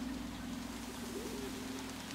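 Steady, continuous low cooing of doves or pigeons in the video game Antichamber, a droning hum with no breaks, heard alone without voices.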